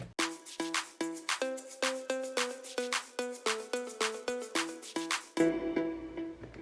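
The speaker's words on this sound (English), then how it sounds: "then I added a clap and a shaker." A clap and a shaker in a moombahton remix, sounding in a steady pattern over a plucked melodic line with regular percussive hits, ending in a sustained tonal wash.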